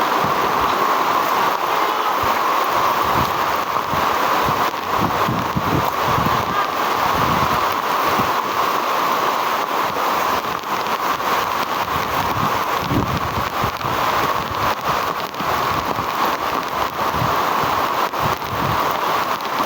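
Heavy rain pours down at a camp, a loud, continuous hiss of downpour that never lets up, with no talking over it.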